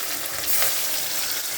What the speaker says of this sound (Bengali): তো মাছটা ভালো করে আগে আমি ভেজে নিই।